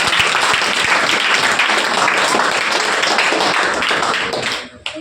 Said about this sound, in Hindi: चलो एक बार जोरदार तालियां बजाइए